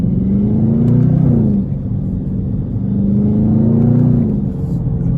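A Dodge Charger Scat Pack driving in traffic roars close by, its engine note climbing in two revving swells separated by a brief drop in pitch.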